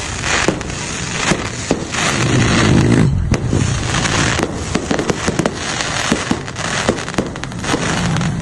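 Fireworks display at the 78th Araw ng Calamba celebration in Misamis Occidental, continuous loud crackling with repeated sharp bangs and bursts over a constant roar of distant explosions.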